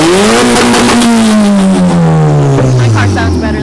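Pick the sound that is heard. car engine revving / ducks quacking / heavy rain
car engine revving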